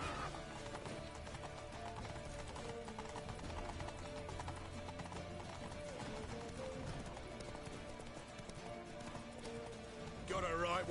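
Horse hooves gallop at a steady clip-clop in The Witcher 3, running continuously under game music and scattered voices at a moderate level.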